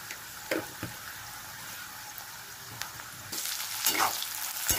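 Katla fish pieces fry in hot oil for doi katla, a soft steady sizzle with occasional pops and spatters that swells louder and brighter toward the end, with no talking.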